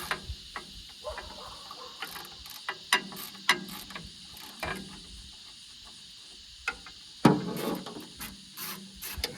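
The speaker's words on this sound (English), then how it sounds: "The bolts here seem to be coming off." A wrench ratchets as bolts are loosened on a Clark Michigan 55A loader, sounding as quick clicking bursts and metallic clunks at irregular intervals, close and fairly quiet, with a sharper clank near the end.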